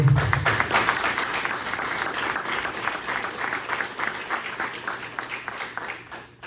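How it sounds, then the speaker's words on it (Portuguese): A church congregation at a Sunday youth service gives strong, sustained applause, many hands clapping together in a loud, continuous wash that tapers slightly toward the end. "Você pode dar um forte aplauso ao Senhor."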